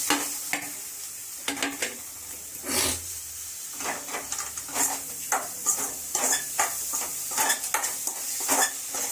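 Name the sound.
tomato frying and being stirred in a pan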